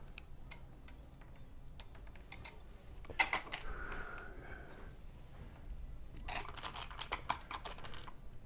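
Small plastic parts from a Tamiya 1/12 scale Lunch Box model kit are snipped off the sprue, making quiet, scattered clicks and snaps with a short cluster of sharper cuts near the middle and end.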